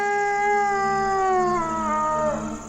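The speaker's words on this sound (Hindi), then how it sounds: "ये कुत्ते की आवाज मुझे कैसे सुनाई दी?" A dog lets out one long, mournful howl that holds steady and then slowly sinks in pitch before breaking off, clear and fairly close with no talking over it.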